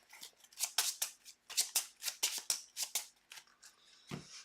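Playing cards from a tabletop card game being shuffled, a rapid series of crisp riffling bursts at close range, with a soft thump at the end.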